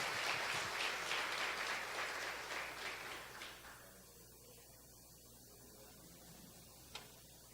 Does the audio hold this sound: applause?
yes